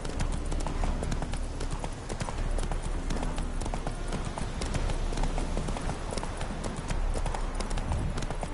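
Horse hooves gallop in The Witcher 3: Wild Hunt – Hearts of Stone, a rapid, loud, continuous clip-clop running the whole way with no pauses.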